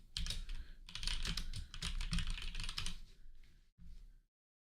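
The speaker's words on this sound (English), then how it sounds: "My microphone's like right next to the keyboard." Rapid typing on a computer keyboard, close and loud, with continuous clattering keystrokes broken by brief pauses, then stopping abruptly.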